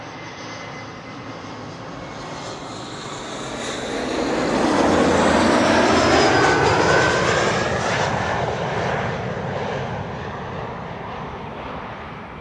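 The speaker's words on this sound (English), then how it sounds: "This is number 175 KLM flight 1428, arriving from Lyon." A KLM airliner arriving from Lyon at Amsterdam Schiphol Airport, its engine roar swelling to a loud peak midway and then easing off as it passes, steady with no talking.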